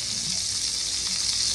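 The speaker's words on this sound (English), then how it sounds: "you guys see it starting to sizzle" Continuous bright hissing and sizzling of cabbage frying in a hot pan on a stovetop, steady and fairly loud throughout.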